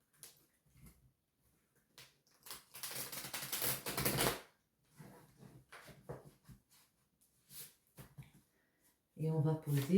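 Tarot cards being shuffled by hand, heard as a few soft riffling and flapping bursts, the longest lasting about two seconds. A voice is heard briefly near the end.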